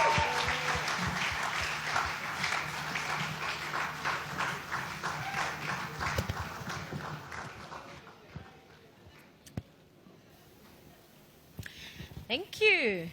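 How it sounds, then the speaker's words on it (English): Applause from an event audience at an agripreneur pitch finale, a dense patter of many hands that fills the first eight seconds, then thins out to scattered claps and a few handling noises. "Let's keep the round of applause going."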